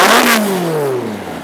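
A classic hot rod racing engine revs hard and then falls away, its pitch sliding steadily down over a second and a half. The sound is loud and close at a Wimbledon pit walk, with no talking.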